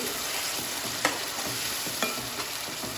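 Green mutton gravy paste frying in oil while being stirred, a steady close sizzle broken by a few distinct scraping knocks of a spoon against the pan, with no talk.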